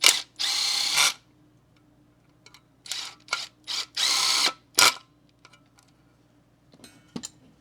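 A 7.2V pen driver motor whirs in short bursts at varying speeds, with a few longer runs and several quick blips separated by silence, close and clear.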